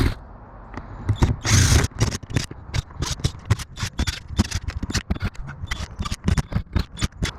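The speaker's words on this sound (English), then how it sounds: "you can go ahead and start unscrewing it." A power drill backs screws out of a Fantastic Fan roof vent on a 2017 Gulf Stream Vintage Cruiser camper, making close, rapid rattling clicks and short whirring bursts in an uneven rhythm.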